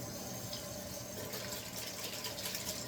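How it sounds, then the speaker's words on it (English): Tap water runs steadily from a faucet while hands are washed after handling meat, a constant broadband splashing stream close by with no talking. "gotta wash hands after touching meat."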